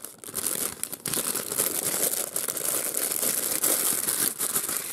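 Crinkling plastic and cardboard packaging of a Plarail Odakyu 2600 toy train being opened, a loud continuous close rustle and crumple with a few sharper tears.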